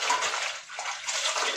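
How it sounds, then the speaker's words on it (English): Warm water runs steadily from a tap into a sink, a continuous soft hiss and splash at moderate volume with no voices. "And then I just put it in the sink with some warm water."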